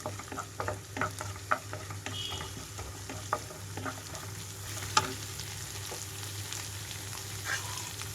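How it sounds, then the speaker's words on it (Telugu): Ginger garlic paste frying with already fried onions in a pan for a cauliflower curry makes a quiet, steady sizzle, broken by repeated scraping stirs and light utensil taps, with no talking. "ఉల్లిపాయలు అంతా వేగిన తర్వాత అల్లం వెల్లుల్లి ముద్ద కొద్దిగా వేసుకుంటున్నాను"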